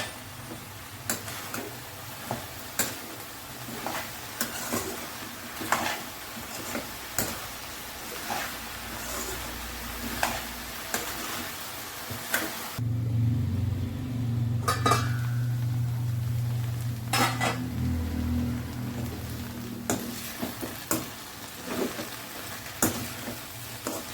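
A vegetable palya cooking in a pan, steady frying sizzle with regular spoon ticks and scrapes as it is stirred, a louder, fuller burst of stirring and sizzling midway before the ticking resumes.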